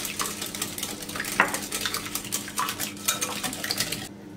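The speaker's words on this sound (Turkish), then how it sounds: "Karıştırıyorum." A utensil scrapes and clinks against a bowl, mixing sugar, vanilla and mahlep for Easter bread dough in quick, irregular strokes, close and fairly quiet, with no one speaking.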